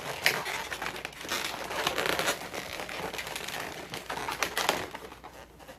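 Rubber balloon being twisted and wrapped in a figure 8 while making a balloon ladybug or butterfly, giving close, continuous squeaky crinkling and rubbing with brief sharp creaks, steady and fairly quiet with no talking.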